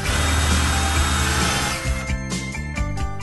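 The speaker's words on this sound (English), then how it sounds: "it's time to put a countersink" A power drill with a countersink bit grinds into a pilot hole in an RTA kitchen cabinet, a loud steady whir that eases off and breaks into short bursts near the end.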